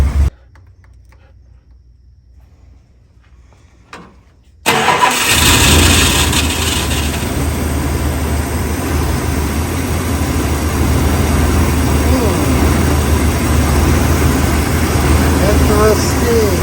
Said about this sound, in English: What we got as we rev it up?